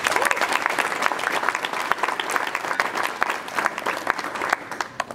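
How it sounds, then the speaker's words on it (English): Steady applause at a college sports banquet honoring the men's tennis team, a crowd clapping in a dense patter that thins toward the end, with faint voices underneath. "So let's just give a round of applause for tennis."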